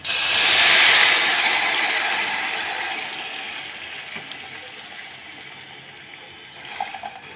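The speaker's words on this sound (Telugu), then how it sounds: "ఇందులో మనం మిక్సీ పట్టి ఉంచుకున్నటువంటి టమాటా రసాన్ని పోసేసుకుందాం." Blended tomato juice poured into a hot tempering of spices for tomato rasam, a loud broad hiss and sizzle that peaks early and then slowly fades over several seconds, with no talking.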